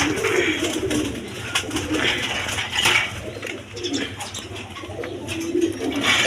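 A pair of Mosoldom pigeons coos in a loft, low throaty calls repeating close by, with a nesting pair nearby and light background noise and brief speech.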